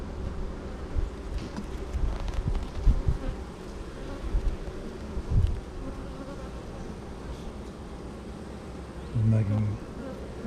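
Honeybees swarming around an opened deep hive box during an inspection, a constant close buzzing hum with some outdoor wind rumble and occasional handling bumps.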